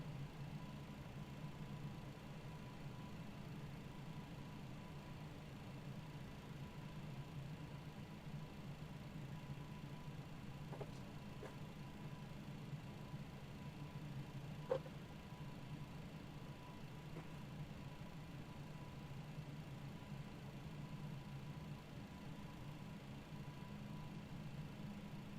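MD-11 engines idling just after start in Microsoft Flight Simulator: a faint, steady low drone and hum holding level throughout with a couple of tiny clicks, no voices.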